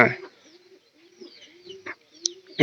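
Pigeons feeding on ground maize give soft, low cooing murmurs that rise and fall in short, close phrases, broken by a few brief sharper sounds at the start and end.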